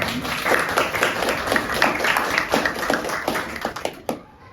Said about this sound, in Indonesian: Kelompok 1 tepuk tangan.